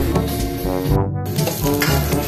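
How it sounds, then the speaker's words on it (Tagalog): Garlic, ginger and onion sautéing in a pan for pork leg monggo, a loud close sizzle with stirring scrapes and a brief dip partway through. "Dito guys, magigisa na tayo. Unahin na natin ang ating bawang."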